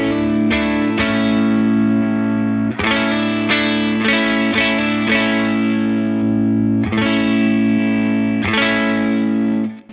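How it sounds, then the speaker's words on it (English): Electric guitar with a warm humbucker pickup through a POD Go with tilt EQ: a loud, distorted, chorus-tinged passage of repeated strummed chords and riffs that runs for the whole stretch with no talking. "Grab my guitar with my warmer humbucker pickup, sounds like this."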